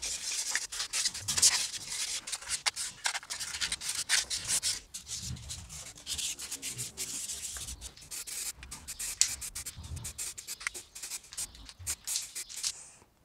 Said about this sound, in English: I think I can probably just rely on the paint to fill that corner and do a bit of sanding